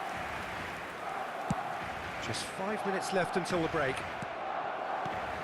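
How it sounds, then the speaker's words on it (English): Stadium crowd noise from an eFootball Champions League semi-final between Barcelona and Inter, a steady roar of fans swelling under the commentator's voice, with a few sharp thuds mixed in. "Certainly gave this crowd something to really cheer about."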